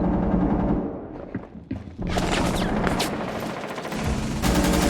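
Loud rapid automatic gunfire in the video game Rainbow Six Siege comes in dense bursts, dips briefly partway through, then resumes as a heavy, continuous barrage.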